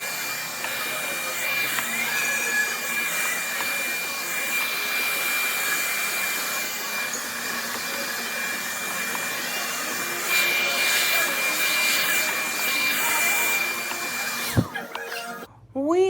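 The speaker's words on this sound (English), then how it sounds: "We are finally done blow drying" A hair dryer blows curly hair straight, a loud, steady close-up whoosh running without a break before it cuts off near the end, followed by a brief voice.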